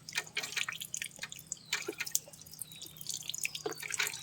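Water runs and splashes over a motorcycle shock cover for an Aerox 155 being rinsed of sand, close dripping and patters coming in uneven bursts.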